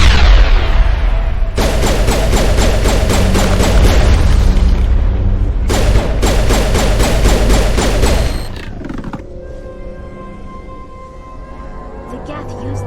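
Explosions from a thrown grenade in the video game Mass Effect, a heavy booming barrage with layered blasts and thuds that rumbles on for several seconds before dying down into quieter hum, voices mixed in.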